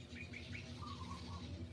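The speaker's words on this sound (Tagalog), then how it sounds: "may sound effect pa tayong ibon na kulo-kulo" A bird sound effect of short, faint chirps and cooing calls, several rising notes followed by softer warbles over a low steady background hum, with no voices.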